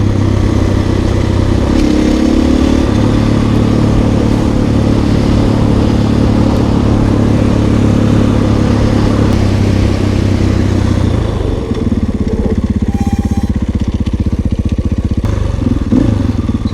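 A modified 2021 KTM EXC-F 500 dirt bike engine runs steadily at a loud, close, even idle or low throttle, with a constant mechanical hum and a slight shift in tone near the end.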